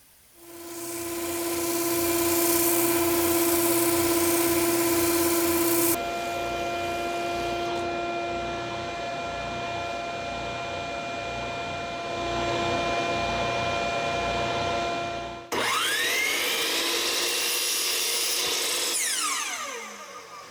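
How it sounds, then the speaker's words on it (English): A spindle sander runs steadily with a loud motor whine, widening a hole in plywood; the tone shifts as the workpiece is pressed against the drum, and there is a sudden change near the end. "I can use my spindle sander to widen out the hole so it'll actually fit on there"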